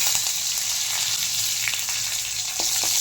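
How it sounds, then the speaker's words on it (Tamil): Fennel seeds, a small piece of cinnamon, two cloves and a sprig of curry leaves fry in hot oil with a continuous, close, dense crackling sizzle and a few brief sharp pops. "சோம்பு பொரிஞ்சதும் ஒரு சின்ன பட்டை, 2 கிராம்பு, ஒரு கொத்து கருவேப்பிலை"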